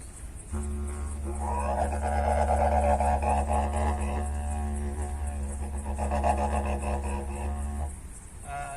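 A performer's voice imitates the laughing call of a kookaburra in a rising, chattering run of bursts over a constant low drone, at an Aboriginal cultural presentation in Kings Park.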